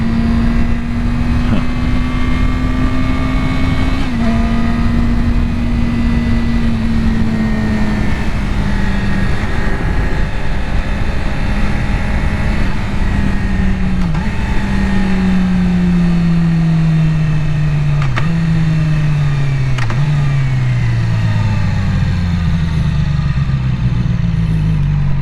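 Yamaha R6 sport motorcycle engine on the road, a loud, close, steady drone that climbs in pitch through each gear and drops sharply at several upshifts, with no voices.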